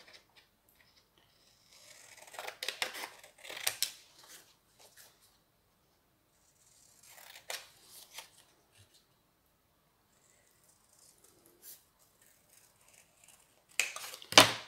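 Scissors snip through paper while a small circle is cut out for decorating an album, with faint, close, intermittent bursts of cutting and rustling separated by near silence.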